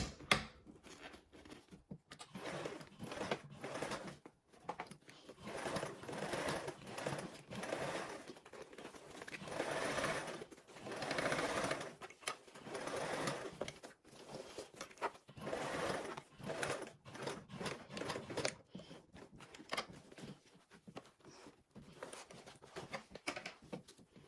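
Sewing machine stitching a row on a bag with a handle, starting and stopping in uneven bursts of whirring with short pauses between them, moderately loud and close, with no talking.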